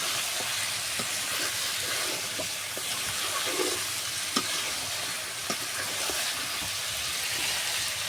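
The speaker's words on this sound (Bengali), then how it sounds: "হাঁসের মাংস যত কষানো যায় তত খেতে ভালো লাগে" Duck meat stir-fries in hot oil in a pan, a steady soft sizzle with occasional scraping and stirring clicks, fairly quiet and without talk.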